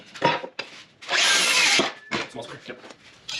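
A power saw cuts short angled wood pieces for a post-frame home build, a brief close whine of about a second between knocks and handling noises, with faint voices around it.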